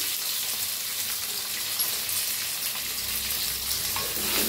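Finely chopped onion frying with green chillies in a hot pan, a steady dense sizzle that holds evenly throughout, close and loud with no talk.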